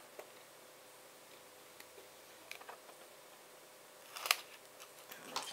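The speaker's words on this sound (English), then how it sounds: "We can trim that off" Small scissors trim ribbon on a handmade greeting card, giving faint, close snips and ticks, with a quick cluster of sharper cuts toward the end over a quiet room background.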